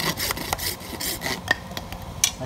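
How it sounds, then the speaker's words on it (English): Coping saw cutting through PVC pipe, a steady run of quick rasping strokes up close, with short pauses and a few sharp clicks between strokes. "Almost any saw will do to cut through this PVC. It cuts real easy. This is just a Copeland saw I'm using."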